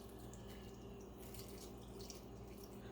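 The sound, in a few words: coconut water poured over protein powder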